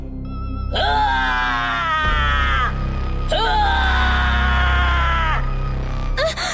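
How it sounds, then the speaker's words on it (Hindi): A ghost child lets out loud, sustained high-pitched screams, two long wailing shrieks back to back with a short gap between them, filling the whole moment. "गाना बंद होने की वजह से मुंजिया एकदम जोर से चीखता है।"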